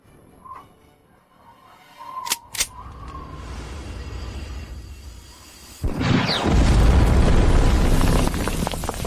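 A homemade military-grade gun fires with a sharp crack or two, then a heavy, sustained roaring blast rises and holds loudly to the end, close and dense.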